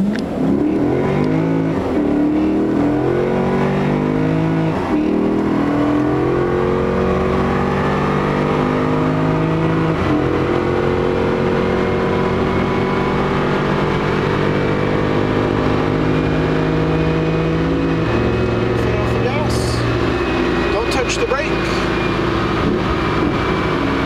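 A car engine revs hard under full power, its pitch climbing in long sustained sweeps with gear changes along the way, loud and continuous throughout.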